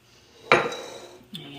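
Kneaded sourdough dough is scraped out of a bowl in one loud close scrape that fades away, then a short clink follows, with no speech over it.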